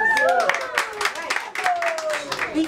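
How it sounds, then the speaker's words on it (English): A crowd claps at a Prasa Metro rail event in Cape Town, scattered hand claps mixed with talking voices and tonal whistle-like sweeps throughout. "Can you have a round of applause?"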